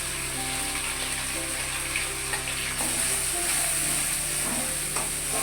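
Ground green pea paste is stirred around a frying pan (kadai) with cumin seeds, giving a steady close sizzle and soft scraping under a constant hum, with no talking.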